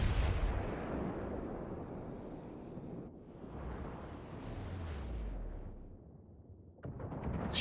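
A battleship's main guns fire a salvo in the naval game World of Warships, producing a low, rolling boom that swells and fades over steady ocean and engine rumble, fairly quiet overall.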